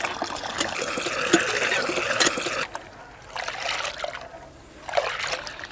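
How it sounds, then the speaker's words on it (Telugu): Water pours off a kilo of soaked chana dal as it drains, a close, gushing trickle that runs strongly, stops briefly, then resumes in shorter splashes. "మనం ఈ పప్పులో నీళ్ళు అనేవి చుక్క లేకుండా మొత్తం కంప్లీట్గా వంపేసుకోవాలండి"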